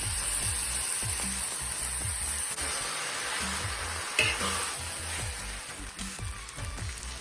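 Pad thai noodles with bean sprouts, chives, tofu, dried shrimp and sauce sizzle in a hot pan while being stir-fried, a soft continuous hiss broken by rhythmic scraping and tossing knocks.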